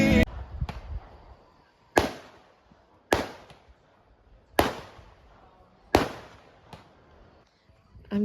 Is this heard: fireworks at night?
yes